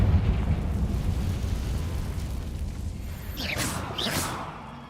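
A Confringo blasting spell goes off in Hogwarts Legacy, a muffled rumbling burst trailing into low roar, followed near the end by two bright whooshing magical sweeps.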